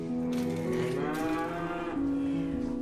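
Cattle on a farm give long, drawn-out moos, one low bellow rolling into another at close range, with no voices around.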